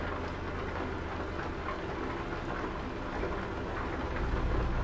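Rain falls in the Euro Truck Simulator 2 driving game as a steady, moderate hiss of drops, with a faint low rumble underneath and no one talking.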